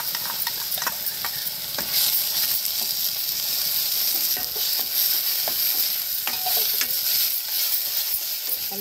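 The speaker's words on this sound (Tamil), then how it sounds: "நல்லா தக்காளி, இஞ்சி பூண்டு பேஸ்ட்டோட பச்சை வாசனை போகிற வரைக்கும் நல்லா வதக்கி வச்சுக்கலாம்." Ground tomato, ginger and garlic paste with pepper and cumin sautéing in a pan for a village-style kulambu, a steady bright sizzle with repeated spoon scrapes and clicks while stirring, no voices.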